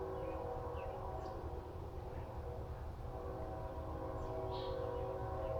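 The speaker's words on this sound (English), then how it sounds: "listen to nature and that lonesome train sound in the background" A lonesome train sounds far off in an outdoor nature setting, a steady low rumble with sustained horn-like tones running underneath for the whole stretch, faint and continuous with no talk.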